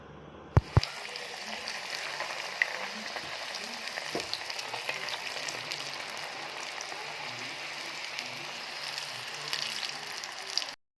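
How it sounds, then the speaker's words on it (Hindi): Filled rolls frying in hot oil for iftar, a steady close crackling sizzle like rain that runs throughout, with a couple of sharp knocks near the start and a faint one at the end. "और अब हम इसको करेंगे फ्राई और मज़े से खाएंगे"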